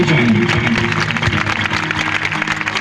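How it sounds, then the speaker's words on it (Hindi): Loud, dense applause from a large crowd at a qawwali night at Governor House Sindh, continuous clapping filling the whole moment. "बहुत सारी तालियां होनी चाहिए"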